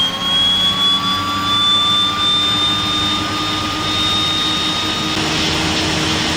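In Microsoft Flight Simulator 2020, the left turboprop engine of a Twin Otter spools up during start, a loud steady whine rising gradually in pitch over a low engine rumble, continuous with no talk.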